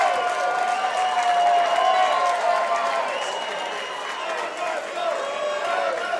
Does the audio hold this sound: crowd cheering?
yes